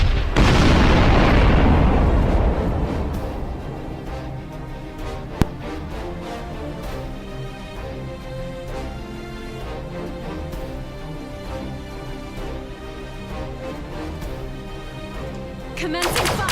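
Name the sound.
weapon fire and explosions in Sunrider video game battle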